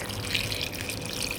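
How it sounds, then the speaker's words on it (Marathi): Water splashes and trickles into a bowl of kokum fruits, a steady close pouring and dripping sound at moderate level, with no voices. "पाणी टाकून घेतलं मी,"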